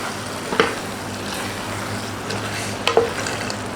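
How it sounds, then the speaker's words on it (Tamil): Mango thokku cooking in oil and melted jaggery in a pan, with a soft steady sizzle and two distinct stirring scrapes of a spoon against the pan, close and without speech. "இப்போ கிண்டி விட்டுக்கலாம்"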